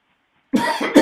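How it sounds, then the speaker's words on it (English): After half a second of silence, a close, loud coughing fit of a couple of rough bursts, the last one strongest, in a blacksmith's workshop. "Excuse me, got a bit of a cough."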